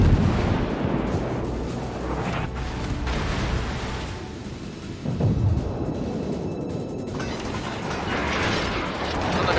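Naval artillery booms in World of Warships as a Russian tier III cruiser, the Bogatyr, takes fire from armor-piercing shells, with heavy rumbling blasts and a loud thud midway under a constant wash of battle noise.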